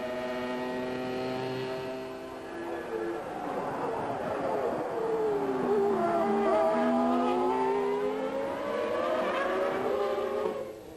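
Formula 1 cars of 1995, a Benetton and a Williams among them, race past with high, wailing engine notes that rise and fall as they pass, loud and sustained under a commentator's voice.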